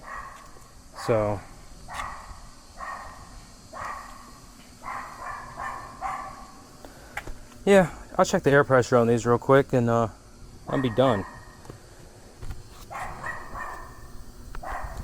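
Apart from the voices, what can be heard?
dog barking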